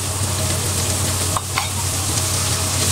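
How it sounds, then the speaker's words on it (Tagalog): Chopped carrots and small diced potato land in a hot pan of baked beans with vegetables, sizzling steadily with brief stirring scrapes midway, close and fairly loud throughout. "ilagay ko na yung carrots at potato"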